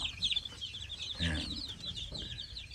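Rhode Island Red and Black Australorp chickens in a coop, several close, overlapping clucks and soft chatter in quick irregular bursts, with one louder, fuller squawk in the middle.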